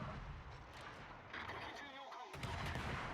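Ship guns firing in World of Warships from the Harekaze torpedo boat, a steady wash of distant booming gunfire and rumbling that swells and dips under a continuous roar, with no clear voice.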